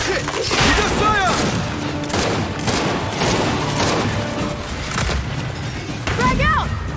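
Rapid gunfire and booming impacts fill a Gears 5 campaign battle, loud and dense throughout, with shouted voices mixed in among the bursts.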